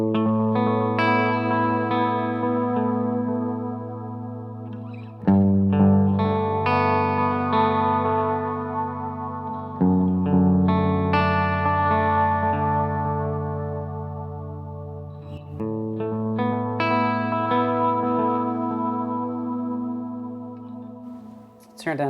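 A guitar running through the Hungry Robot Pedals The Wash effect pedal rings out slow, washy chords in a thick, echoing, chorus-like swell, with each new strum blooming over the fading one, loud and continuous.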